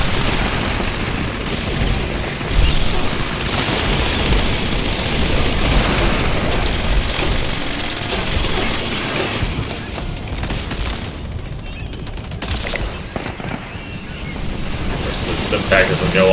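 Missile explosions in the video game Fallout 76, with dense continuous rumbling blasts and booming impacts that fill the sound loudly and steadily, thinning briefly near the end before the roar picks back up.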